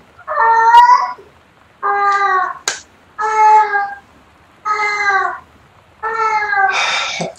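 A pet cat meows repeatedly and insistently nearby, five or six drawn-out, whiny calls separated by short pauses, loud and close, with a few small clicks between them.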